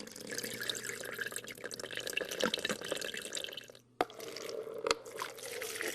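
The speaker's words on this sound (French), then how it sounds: "On verse une quantité d'eau identique sur un gros élément et sur du matériau fin de même poids." Water is poured equally onto a coarse aggregate element and onto fine material of the same weight, giving a soft close splashing and trickling with a few sharp drips, fairly quiet throughout.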